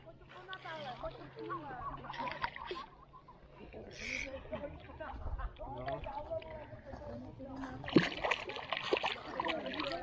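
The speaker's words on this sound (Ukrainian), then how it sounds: "Плес ще хвостом по воді." A few splashes as a carp's tail slaps the lake water, with a sharper burst near the end, mixed in with people talking over them.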